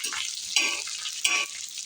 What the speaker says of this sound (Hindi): और ये हमारा चटनी का तड़का,